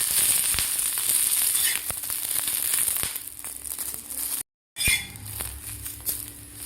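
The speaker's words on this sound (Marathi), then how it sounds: "2 ते 3 मिनिटं परत आपल्याला भाजून घ्यायचे आहे तेलामध्ये गवार." Cluster beans (gawar) fry steadily in hot oil, pressed down and spread across the pan, giving a continuous close sizzle with small crackles and brief scraping, broken by a short silent gap near the end.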